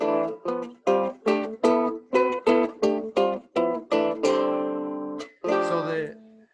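A requinto, a traditional Mexican guitar-family instrument, plays modal jazz lines: a sequence of plucked chord stabs with short gaps, then a longer sustained chord, close and clear.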